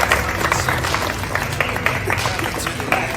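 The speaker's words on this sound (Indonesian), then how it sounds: "tepuk tangan dulu kita semua." A group of people clapping their hands together during a physical education lesson, a dense continuous patter of claps at moderate loudness with a crowd murmur underneath.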